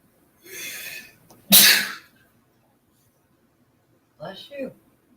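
A single loud, sharp sneeze bursts out close by at a Thanksgiving beach hangout. It comes after a breathy intake, and a short spoken reply follows a few seconds later.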